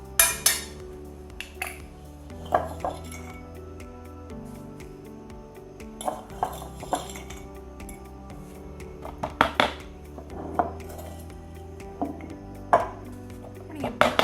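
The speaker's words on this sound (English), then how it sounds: "I'm now gonna start putting the tablespoons of sugar in and continuing to mix." Meringue being mixed in a bowl while sugar is spooned in: scattered metallic clinks and taps of utensils against the bowl recur irregularly over a quiet background of mixing.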